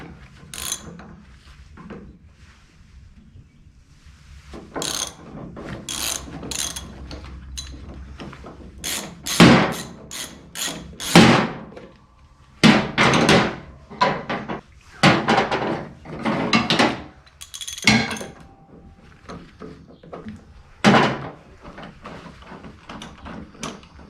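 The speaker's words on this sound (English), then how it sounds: "I need to figure out the size of this bolt head to be able to loosen it." Ratchet wrench working a 3/4 inch bolt head on a 72-inch finish mower, with bursts of clicking and metallic mechanism noise in irregular clusters, close and fairly loud, with quieter gaps between.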